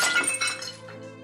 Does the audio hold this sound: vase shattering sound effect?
yes